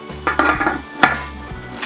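A metal lid settles back onto a cooking pot of simmering beef balbacua, with a few close clanks and scrapes over a low steady hum, no talk.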